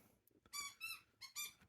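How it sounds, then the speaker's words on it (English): A new puppy chewing a squeaker toy, producing four short, sharp squeaks in quick pairs, fairly close and clear over a quiet room. "we just got a new puppy, and he enjoys his squeaker."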